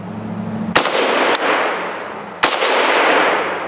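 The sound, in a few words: American-made AK rifle gunfire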